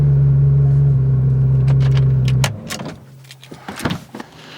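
A Porsche GT3 RS idles with a steady low engine hum that cuts off partway through, followed by a few close clicks and thumps, likely a door and cabin sounds, with no talking.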